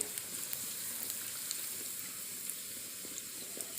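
Puri deep-frying in hot oil while more oil is ladled over it, a steady soft sizzle and crackle running evenly throughout with faint scattered pops.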